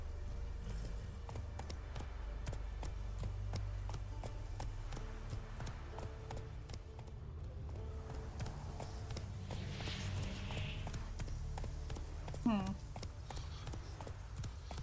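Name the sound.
hoofbeats of the horse Roach, from video game The Witcher 3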